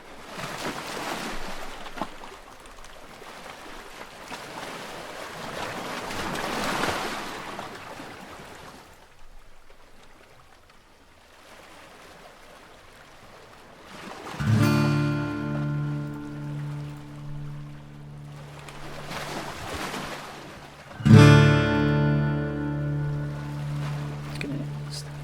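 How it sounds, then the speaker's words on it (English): Ocean ambience playing as soft background wash, a steady hiss of surf rising and falling in slow swells, later joined by louder tonal musical hits. "just little ocean ambience to get you into the thing"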